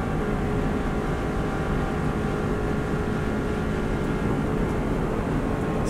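A Subaru WRX STI held at full throttle on the Isle of Man TT road course, giving a steady, loud, dense engine drone with constant wind and road roar and no break for the whole stretch.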